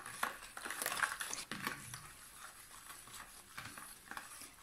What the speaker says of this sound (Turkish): Yemek kaşığı şekerimi de ekliyorum ve mayam eriyene kadar karıştırıyorum.